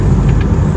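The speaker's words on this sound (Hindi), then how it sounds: "वाह भाई वाह, ये है भाई BMW के डीजल इंजन्स।" A BMW 320d diesel engine, a car with close to 300,000 km on it, sends out a loud, steady low rumble that holds for under a second at close range.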